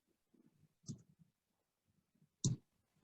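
Two distinct computer mouse clicks, pressing a save button in software, stand out sharply against faint low background murmur, spaced about a second and a half apart.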